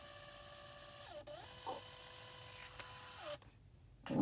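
A mini photo printer feeding out a photo, with steady mechanical whirring, a few short motor sweeps and clicks, and a louder clunk as the print finishes, all close and with no talking.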